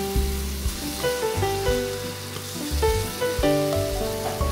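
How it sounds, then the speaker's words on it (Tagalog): Ground beef sautés in a pan with a steady sizzle and crackle throughout, sitting under prominent background music. "And then isunod na natin yung ating ground beef. Igisa lang natin yan hanggang sa mag-brown."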